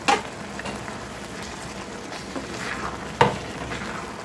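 White pumpkin halwa with ghee and sugar is stirred in a pan, giving a steady soft sizzle with a few sharper scraping strokes of the spoon against the pan.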